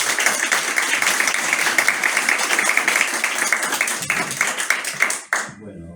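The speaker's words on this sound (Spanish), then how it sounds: "les pido un fuerte aplauso para nosotros" Audience applause fills a book presentation for the oral anthology, a dense, steady burst of many hands clapping that rings out loud for about five seconds before breaking off abruptly into near silence.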